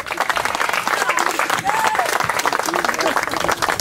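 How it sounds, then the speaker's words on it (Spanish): Wedding guests at a church ceremony applauding the newly married couple: loud, sustained clapping with cheering voices mixed in, continuous across the whole stretch. "Pueden darle un aplauso fuerte a Cristo"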